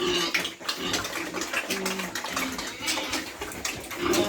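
A pig slurps and gulps water noisily and continuously, close by, with splashing and snuffling throughout.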